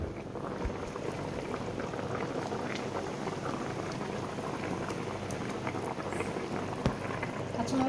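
Boal fish curry broth bubbling in a pot, a steady close simmering crackle running throughout with faint scattered ticks.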